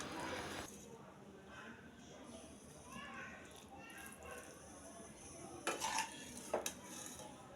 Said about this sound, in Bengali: এখন চুলা অফ করে দিয়ে পরিবেশন বাটিতে ঢেলে ফেলব।